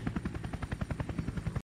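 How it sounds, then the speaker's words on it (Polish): Helicopter in the video game Hurtworld, a rapid steady rotor chop pulsing loudly and evenly throughout before cutting off abruptly at the end. "Gościu sobie leci helikopterem troszkę nieudolnie"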